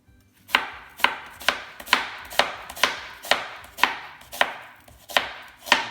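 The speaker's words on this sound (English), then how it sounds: "in chopping onions, your knife skills have to be very important" A knife chops onions on a cutting board in a steady rhythm, about a dozen crisp, evenly spaced thuds, close and clear with no talking.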